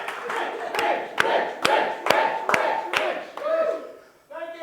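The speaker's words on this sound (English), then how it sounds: "The crowd goes wild." An audience at a 24-hour game show marathon claps in a steady, rhythmic beat, loud and close, with voices rising toward the end.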